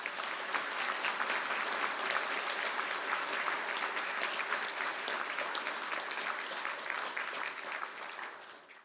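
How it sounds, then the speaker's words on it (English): Steady audience applause fills a graduation conferring ceremony in Galway for business and agribusiness degree candidates, dense and continuous throughout before tapering slightly at the end. "please stand for a round of applause"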